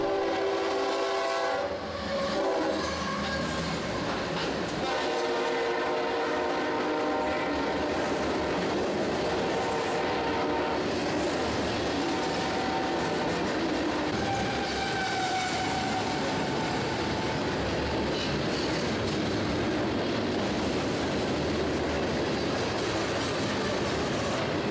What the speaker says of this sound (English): I didn't even notice this train until he was right on top of me.